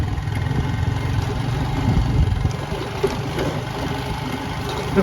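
A motorcycle engine hums steadily at a low, even pitch as the bike is ridden slowly, with no talk over it.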